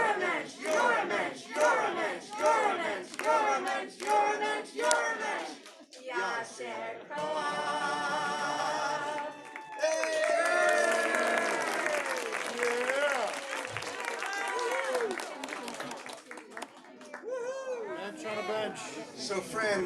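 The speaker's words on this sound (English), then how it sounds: "Now all of us want to give you a cheer." A synagogue congregation at a Shabbat service cheers for the Mensch of the Month, with many voices calling out, singing and whooping together in rising waves, close and lively, mixed with clapping.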